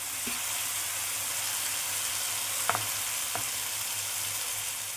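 Peas simmering in oil as a Bengali koraishuti kosha curry cooks on high heat in a kadai, a steady soft frying hiss with two brief spoon scrapes.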